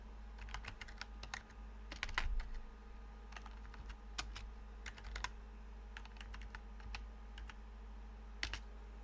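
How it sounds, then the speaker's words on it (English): Steady clattering keystrokes on a computer keyboard, quiet and close, in short bursts with a few brief pauses, over a faint electrical hum. "Let me type in the Aki's kit."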